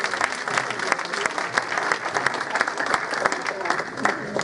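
A mushaera audience gives hearty applause after a ghazal performance, steady dense clapping at close range that carries on evenly without a break.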